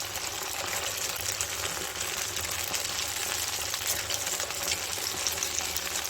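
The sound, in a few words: small poha snack balls frying in oil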